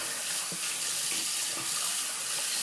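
Running tap water splashes over a shaving soap tin as it is rinsed, a continuous close hiss of flowing water with small clinks and shifts of the tin underneath.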